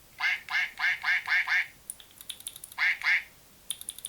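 A squeaky toy duck quacks six times in a quick rhythm, then light clicks, two more quacks and a few more clicks.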